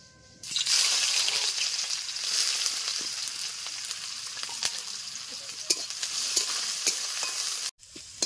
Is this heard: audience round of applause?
no